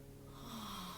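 A voice imitates agonal breathing, giving one drawn-out, snoring, wheezy gasp that holds steady and fairly close for about a second with no words.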